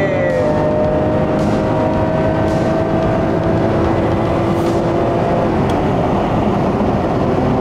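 A Ferrari Testarossa engine pulls hard at full throttle, a loud sustained roar with rising tones that fills the whole stretch without a break, heard from inside the car.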